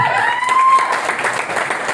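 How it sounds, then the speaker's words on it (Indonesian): Audience applause in a seminar hall, a steady wash of clapping from a crowd with a faint sustained tone running through it. "tepuk tangan untuk PT PES"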